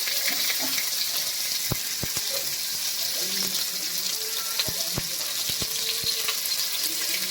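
Pumpkin sizzling and frying steadily in a pan, with a utensil stirring and scraping in scattered sharp clicks over a constant hiss.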